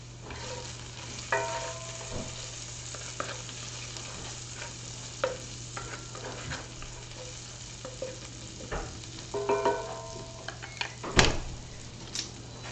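Jalapenos fry in oil in a pan with garlic for a bacon jalapeno mac and cheese, a low, steady sizzle under a constant hum, punctuated by clinks of a wooden spoon and a sharp knock near the end.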